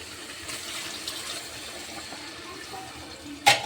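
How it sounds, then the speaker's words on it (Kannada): Coconut water is poured into a pot of chicken curry, making a soft, steady trickle and splash that ends with a sharp metallic clank from the pot. "ಇವಾಗ ಇದನ್ನು ಇದಕ್ಕೆ ಹಾಕಿ ಕೊಬ್ಬರಿ ನೀರು ಹಾಕ್ಲಿಕ್ಕೆ ನೋಡಿರಿ ನಾ ಈಗ"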